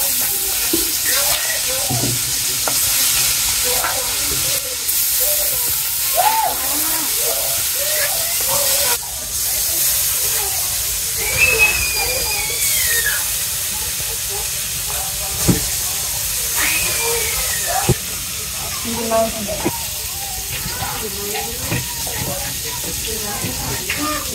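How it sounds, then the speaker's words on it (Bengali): Koi fish rubbed with turmeric, chili and salt fry in oil, producing a loud steady hiss and crackle with voices talking over it now and then. "এই যে কই মাছ প্রথমে হলুদ মরিচ আর লবণ দিয়া মাখায় নিলাম, এখন তেলের মধ্যে দিয়ে দিই"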